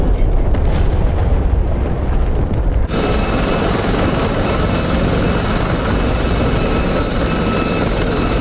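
Helicopters in the combat flight simulator DCS, during a Cyprus campaign battle: a loud, steady rotor-and-turbine roar sets in abruptly and holds as a dense, continuous drone with a faint high whine.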